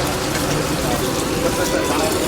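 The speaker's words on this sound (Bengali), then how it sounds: "এই লোটে মাছ চলে গেল একদম গরমা গরম তেলে" Bombay duck (lote fish) fries in hot oil at a West Bengal roadside food shop, making a loud, dense, steady sizzle that runs close and unbroken the whole time.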